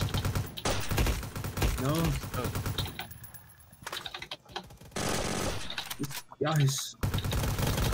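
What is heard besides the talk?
gunfire in Roblox Vietnam War video game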